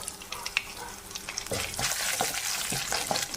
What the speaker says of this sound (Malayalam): വെളുത്തുള്ളി ഇതെല്ലാം ഒന്ന് നല്ലോണം മൂപ്പിച്ചെടുക്കാൻ നിൽക്കാം